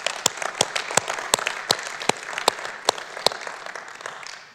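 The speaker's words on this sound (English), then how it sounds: "let's hear it for everybody who's come before me who's shared with us today" An audience claps for earlier speakers at a talk, a moderate round of applause with sharp individual claps standing out, fading toward the end.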